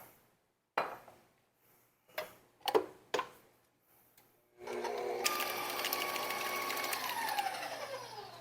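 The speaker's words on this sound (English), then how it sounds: "we're gonna blend all this up." After a few clinks and taps, an electric mixer starts and runs steadily, whirring loudly as it blends cheesecake batter with vanilla in a bowl, close by with no talking.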